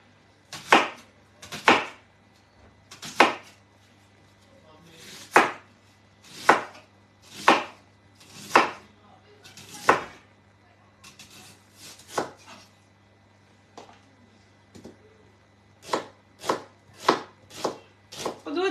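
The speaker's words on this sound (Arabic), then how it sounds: "نقطع البصل على شكل دائرة" A knife slices an onion into rings on a board for baked sardines, about fifteen crisp, evenly spaced chops in a steady rhythm, close and clear, with no talking.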